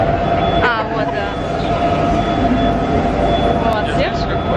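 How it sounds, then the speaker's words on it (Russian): Subway train sounds fill a metro station with a steady loud rumble and drone, a sustained tone over the noise and faint squeals, while people talk in the background. "Сидим сейчас в метро"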